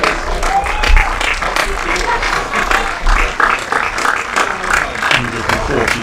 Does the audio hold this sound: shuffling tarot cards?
no